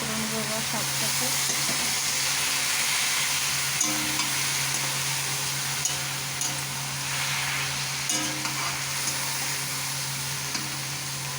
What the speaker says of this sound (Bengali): আমি নাড়াচাড়া করে নেবো এবার শাকটাকে।